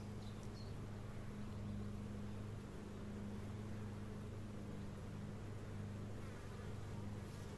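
A gentle honeybee colony hums steadily during a spring hive inspection, a dense close buzz of many bees that stays even and continuous throughout, with no talk.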